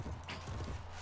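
Horse hooves clip-clop in a quick, uneven patter under a steady low hum, with a mounted archer riding in a Warband mod of a medieval combat game.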